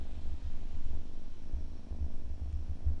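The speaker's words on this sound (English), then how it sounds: "He's also a purring machine." A cat's low, steady rumbling purr, close and continuous, pulsing gently with no voices.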